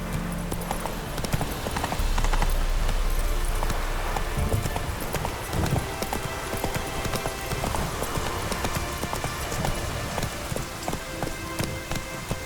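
Roach, the horse in The Witcher 3, gallops with steady, dense hoofbeats under a constant wash of rain and ambient game noise. No voices are heard.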